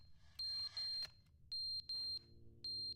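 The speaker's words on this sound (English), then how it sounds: "The carbon monoxide alarm?" Carbon monoxide alarm in the video game The Stanley Parable: Ultra Deluxe, a piercing electronic beep repeating in pairs of long, even tones with short gaps, loud and clear over a faint low background.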